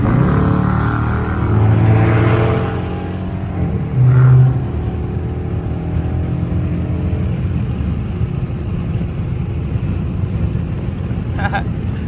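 A Dodge Charger RT driven hard at night with traction control off, its engine revving up in pitch and then settling into a loud steady drone inside the cabin, with brief voice-like bursts over it.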